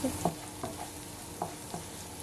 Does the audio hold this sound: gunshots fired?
no